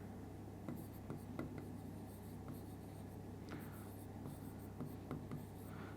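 Chalk or marker writing on a board during a Class 9 maths lesson on lines and angles, a run of short scratchy strokes and taps over steady room hum, no talking.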